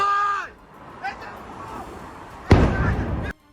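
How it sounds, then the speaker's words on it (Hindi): A Russian suicide drone explodes among buildings in Dnipro, a loud sudden blast that fills the air for about a second and then cuts off, after a fading tone and some faint background noise. "उसके फटते ही जोरदार धमाके के साथ आंखें चौंधिया देने वाली रोशनी हुई।"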